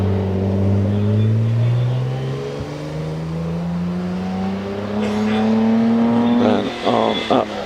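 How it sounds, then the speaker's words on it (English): A Jaguar E-Type climbs a hillclimb course at Prescott, its engine note rising and falling through gear changes, loud and fairly close, then fading as it pulls away, with a commentator talking over it near the end. "as Paul Slade sets off in the beautiful Jaguar E-Type"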